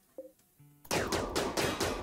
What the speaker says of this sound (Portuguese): Tá, dá tiro aqui.